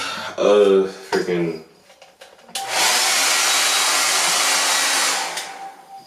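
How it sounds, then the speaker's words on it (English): A hair dryer switches on and blows steadily with a loud, broad whoosh for several seconds, preceded by brief talking and some clattering. "use one of those hair dryers things"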